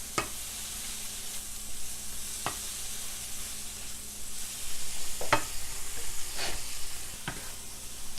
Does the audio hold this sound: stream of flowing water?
no